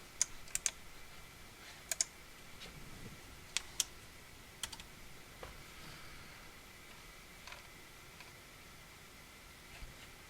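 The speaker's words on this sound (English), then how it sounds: "I'm going to type in my username and password right here" Irregular clicks of keys tapped on a computer keyboard while entering login details during an ESP32 and Home Assistant setup, quiet and sparse with short bursts and pauses over a faint steady hiss.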